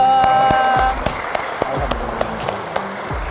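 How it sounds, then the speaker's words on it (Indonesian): Applause at an event in a prison, scattered claps from a small group following a louder opening burst, with a voice carrying over it. "Tepuk tangan dong."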